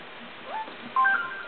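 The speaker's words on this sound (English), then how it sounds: "That was my phone." A mobile phone gives a brief notification: a few short electronic tones, one gliding and the rest steady. They sound at moderate loudness over a soft background hiss.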